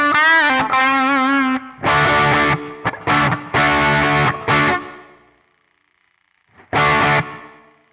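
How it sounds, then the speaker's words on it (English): Electric guitar played through a Wampler Brent Mason ReWired overdrive/distortion pedal on its distortion side alone: loud sustained distorted chords and single notes in several bursts, with a pause of fading hum before one last strummed hit. "Okay, real quick, let's bring in the distortion. Let's hear it with just the distortion."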